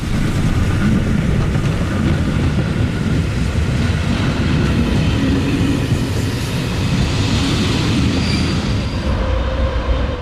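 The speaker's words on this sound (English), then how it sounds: "It departs New Gatti behind a 424 class locomotive built in the" Royal Hungarian Express train hauled by a 424 class locomotive built in the 1920s, a loud, steady rumble of wheels and running gear that stays close and unbroken throughout.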